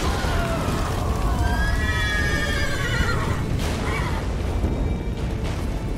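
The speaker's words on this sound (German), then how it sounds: "Schnapp dir das Pferd, das spart uns Zeit!" A horse neighs in The Witcher 3 video game, a couple of rising, wavering whinnies standing out over a steady, loud game soundscape with low rumbling.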